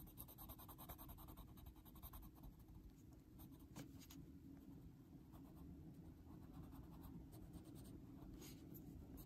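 A black pencil dragged across paper under heavy pressure to lay down solid black, giving a continuous close scratchy scribbling texture with quick repeated strokes and no speech.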